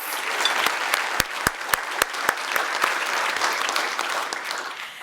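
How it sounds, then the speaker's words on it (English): A crowd applauds an award winner at a Simon Fraser University president's address, dense clapping with a few sharp louder claps standing out, fading slightly toward the end. "Let's give her a round of applause."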